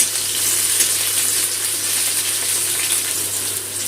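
Chopped onions and cashew nuts frying in hot oil in a pan, a loud, steady hiss and crackle that stays constant and close throughout.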